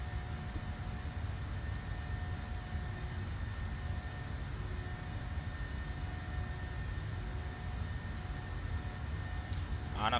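Airliner taking off in Microsoft Flight Simulator, a Southwest Boeing 737 from Chicago, with a steady broadband engine roar and rumble held at constant level throughout, no talk.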